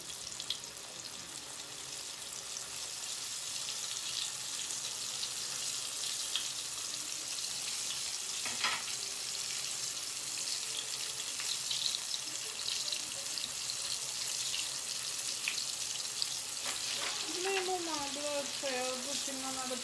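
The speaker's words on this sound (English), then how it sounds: "So I'm just gonna put it in my hot oil." Coated chicken for Jamaican bar-be-fry chicken sizzles steadily in hot oil, a continuous broadband hiss with scattered pops and crackles, close and fairly loud throughout, with brief faint clinks near the end.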